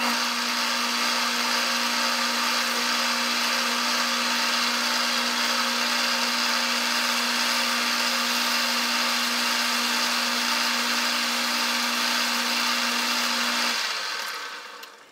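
A machine runs steadily while chamfering the faced outer end of a mill chuck tapping collar, giving a constant close whine with a sustained hum for about fourteen seconds before it winds down and stops.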